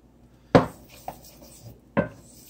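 Spoon knocking and scraping against a pot while stirring curry chicken sauce, two sharp clanks a second and a half apart with a lighter tap between, close and clear in a quiet kitchen.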